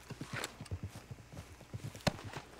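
Horse hooves clip-clop at a steady walking pace in the video game Red Dead Redemption 2, a quiet, even rhythm of soft thuds.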